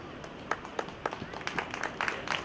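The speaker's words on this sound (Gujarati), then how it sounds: "એમાં બહેનો તાળી પાડે છે." Women in the audience at a Bhagvat Saptah religious gathering clap, with light, scattered hand claps that come in irregular bursts beneath a speaking voice.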